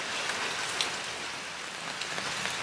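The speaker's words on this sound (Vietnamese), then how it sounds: "trời mưa quá" Steady rain patters on a surface, a dense, even hiss of drops with a few louder splashes, no voices.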